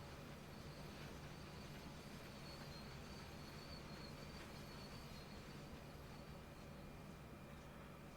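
A freight train hauled by an SD-40 locomotive rolls slowly in Train Sim World 2, heard as a faint steady rumble with soft wheel hiss and the occasional high squeal.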